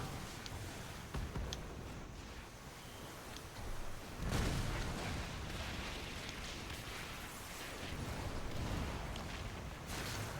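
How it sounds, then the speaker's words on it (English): A Privateer ship in a space combat game fires torpedoes, heard as dull thumps and bursts over a constant roaring battle bed, with a heavier boom around four seconds and no speech. "I do hear torpedoes coming off that Privateer"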